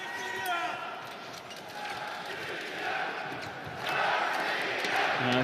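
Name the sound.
crowd chanting at fencing team final in Moscow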